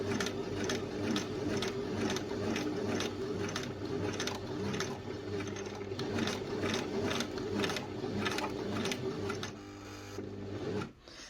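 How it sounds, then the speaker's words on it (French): Sewing machine stitching a fabric bunting garland with short backstitches, a steady rapid mechanical chatter running close and loud throughout before slowing and stopping near the end. "Je refais des petits points en arrière, ça va me permettre de bien bloquer mon fil et éviter que tout se découse."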